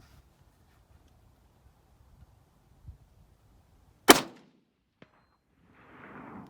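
A single sharp, loud rifle shot cracks out at a bowling pin set 225 yards away during a shooting competition, followed by a short decay and a faint distant tick about a second later; quiet outdoor air surrounds it.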